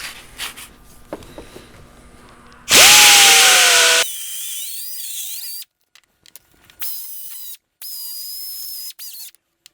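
A small grinder cuts into a car hood hinge with a loud, high whine lasting over a second, then several shorter bursts of grinding separated by brief pauses.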